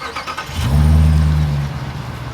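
A 2021 Dodge Durango SRT Hellcat AWD engine gives one loud, deep rev that swells and holds for about a second before settling back to a rumbling idle, close and alone.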